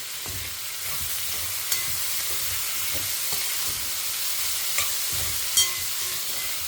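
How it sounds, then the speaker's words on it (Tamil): Ridge gourd sautéing with salt in a pan, a steady hissing sizzle with soft rhythmic scraping of a spatula and a couple of light taps, close and even throughout. "நம்ம பீர்க்கங்காயை ஆட் பண்ணிக்கலாம். கொஞ்சம் நேரம் வதங்கட்டும்."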